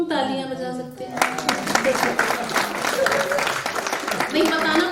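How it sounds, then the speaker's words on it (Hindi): Audience applause breaks out at a Hindi love-poetry recital, a dense, steady wash of clapping that follows a sung line and continues alongside a voice. "तालियां बजा सकते हैं।"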